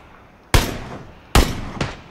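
Three sharp PUBG video game gunshots, two loud close blasts about a second apart followed quickly by a slightly softer third, each with a short ringing decay.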